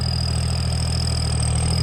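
A John Deere 5310K tractor engine runs at a steady, even pace nearby, a low, constant hum with no change in speed.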